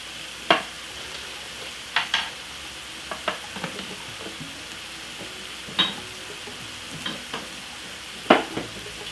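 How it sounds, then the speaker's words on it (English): Fried rice being stirred in a hot pan, a low steady sizzle broken by several sharp scrapes and knocks of the utensil against the pan, close by with no talking. "Lovely, give it a stir."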